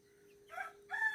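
Two short rooster calls sound from fairly close over a quiet background with a steady faint hum.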